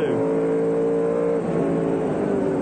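Touring race cars led by the Castrol Commodore at Eastern Creek, engines droning loud and close with steady harmonic whine, one car tucked right behind another's rear wing, continuous and without voices.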